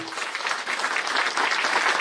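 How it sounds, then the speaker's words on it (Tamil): An indoor audience at a business presentation claps steadily for about two seconds, a dense, even patter of many hands with no voices over it. "அப்ப அந்த வாய்ப்பு இங்க இருக்குன்னு சொன்னா ஒரு கைத்தட்டல் கொடுக்கலாமா கொடுக்கக்கூடாதா?"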